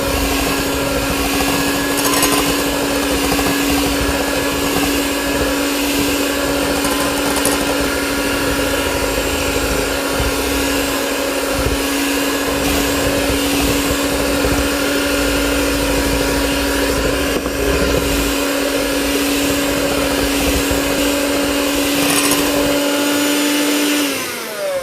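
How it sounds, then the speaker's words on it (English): An electric mixer beats butter, vanilla and eggs together for banana bread, giving a steady, loud motor whine with a constant pitch that runs throughout and then cuts off at the end. "I'm going to go ahead and start the butter and vanilla, mixing it together. And I'll add my eggs in as I'm mixing."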